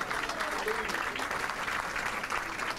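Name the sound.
audience applause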